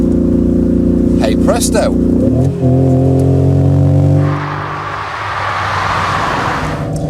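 A deep, steady simulated V8 engine rumble played through a convertible car's stereo, with a sharp rev change midway, then a rushing, throaty drone; a voice speaks briefly over it.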